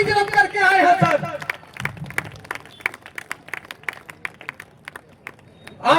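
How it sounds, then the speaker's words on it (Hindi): An audience in a hall claps loudly for a group who reserved a bus to attend, a dense burst of applause with scattered individual claps continuing and crowd chatter underneath. "इनके लिए जोरदार ताली"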